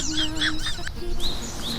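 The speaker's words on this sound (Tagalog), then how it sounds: "Ang tawag sa isang ibon na ito ay tukan." A toucan in a forest gives a run of loud, nasal, croaking calls in quick succession, close by, with a short pause before a few more honking notes.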